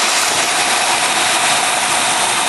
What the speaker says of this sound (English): And we start the engine up.